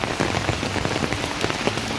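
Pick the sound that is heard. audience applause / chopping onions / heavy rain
heavy rain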